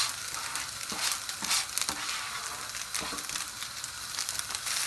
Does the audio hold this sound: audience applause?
no